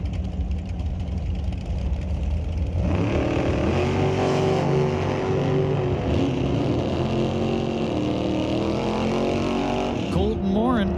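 Drag race cars, one a Race Tech chassis with a 615 big block Chevy, roar loudly at Mission Raceway Park as they launch off the line, engines rising in pitch and sustained, with an announcer talking over them.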